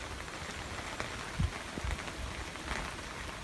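Rain falling at night on an outdoor beehive, a soft, steady patter of drops with a few slightly louder taps, faint and continuous with no voices.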